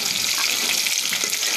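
Chopped onion and spices temper in hot oil for khichuri, a loud, steady, close sizzling hiss with no break.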